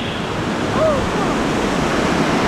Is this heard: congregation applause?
no